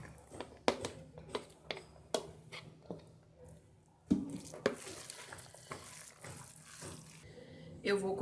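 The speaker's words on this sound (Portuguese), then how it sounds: "passa uma água 3 vezes, assim, lavando bem e tirando todo o sal para poder misturar." Canned corn gets rinsed under a running kitchen tap while chicken pie filling is being prepared. Water splashes and trickles with irregular knocks and stirring clatter, faint and close, and a voice speaks at moments.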